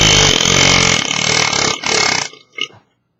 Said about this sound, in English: Burp time.